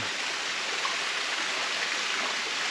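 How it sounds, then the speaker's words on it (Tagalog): Steady rushing water from a small waterfall in Concepcion, a continuous broadband splash with no voices, close and fairly even throughout. "Ito na ngayon ang waterfalls ng Concepcion."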